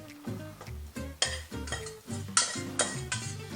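Drained macaroni being stirred into a pot of cheese sauce, with a run of repeated scraping, clinking spoon strokes against the pot, fairly close and steady, and no talking.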